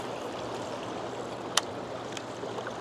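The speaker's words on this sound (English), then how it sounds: "Okay, that water is like really moving." Fast river current rushes below a dam in a steady, broad roar, with one sharp splash or clatter partway through and no talking.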